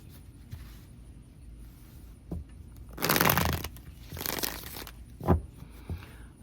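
Tarot cards being shuffled by hand in a quiet room, with a few short riffling bursts and soft card slaps between brief pauses, close and moderately loud, with no talking.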